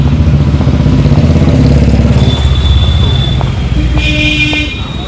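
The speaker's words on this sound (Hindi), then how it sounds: "ये आप देख सकते हैं कितना ट्रैफिक है आज यहाँ पे।" Busy street traffic with cars and motorcycles, a steady loud engine rumble and clatter close by, broken by sustained horn toots from nearby vehicles, with faint voices mixed into the din.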